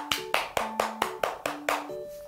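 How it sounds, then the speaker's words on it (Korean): Eight evenly spaced, sharp claps of hands in quick rhythm, a saluting round of applause for participants in a church Bible correspondence class, each clap crisp and close with faint tonal hum between. "수고하신 모든 분들께 경례의 박수 하도록 하겠습니다."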